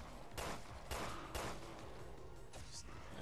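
Pistol fire in Resident Evil Revelations 2 Raid Mode: three sharp, evenly spaced shots about half a second apart, with a softer report after a pause, over a noisy game backdrop.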